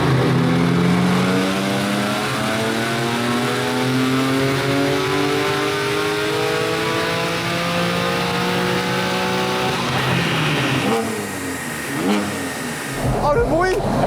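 A BMW M4 fitted with big turbos revs hard, its engine note sweeping up and down through rising harmonics. The revving runs loud and steady for about ten seconds, then eases off before a short burst at the end.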